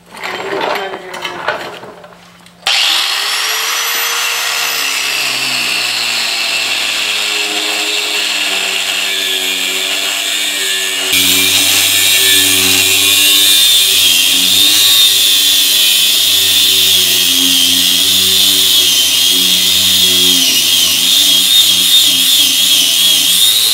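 A power tool takes bolts off the suspension of an ND Mazda Miata during a shock and sway bar upgrade. After a brief clatter, a loud, steady motor whine runs for about 20 seconds, stepping up in pitch and volume about halfway through.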